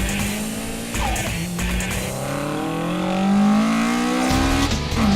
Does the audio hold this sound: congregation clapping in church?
no